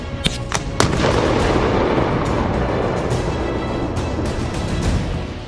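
An AT4-CS confined-space anti-armor weapon fires during a live-fire military exercise, giving a few sharp reports up front followed by a loud, sustained roaring blast that rumbles on without any talk.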